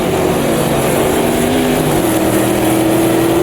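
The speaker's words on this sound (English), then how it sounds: "Just third gear for just a minute there. Let the engine help slow the car down." Race car engine in Automobilista 2, an American four-speed machine at Rouen, droning steadily as it engine-brakes in third gear, with pitch shifting slightly around the downshift, continuous and loud throughout.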